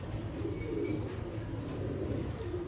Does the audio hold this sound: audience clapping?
no